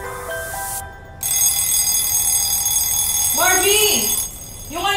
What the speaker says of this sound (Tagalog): Yung alarm clock mo!